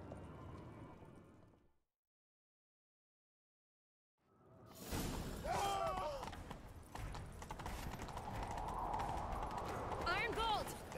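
Horse galloping in The Witcher 3: Wild Hunt, starting after a brief silent gap, with rapid hoofbeats and rushing movement under game sounds and occasional voices, fairly loud and close.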